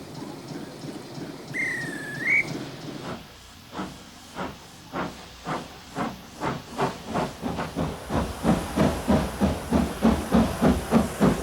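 Steam hisses loudly from a preserved steam locomotive in Britain, then settles into a rhythmic chuffing that speeds up as it pulls away; a brief whistle sounds near the beginning.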